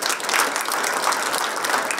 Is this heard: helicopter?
no